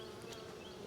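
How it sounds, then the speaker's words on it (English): Dense, continuous buzzing of many healthy honey bees, steady and fairly faint with a constant hum and no talking. "these are healthy bees that we trap or actually recover"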